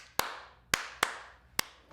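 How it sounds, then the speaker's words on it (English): Four sharp hand claps in a quiet room for a clap test, spaced unevenly and each followed by a short reverberant decay, with no talking. "We are going to do a clap test."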